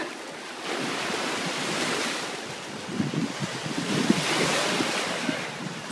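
Ocean waves and surf rolling onto shore, with continuous wash and wind buffeting the microphone, loud and close throughout.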